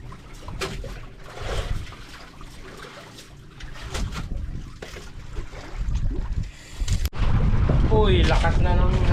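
Strong wind buffeting a fishing boat at sea, a rough rumbling gust hitting the microphone in surges with water sounds mixed in, and someone talking nearby toward the end.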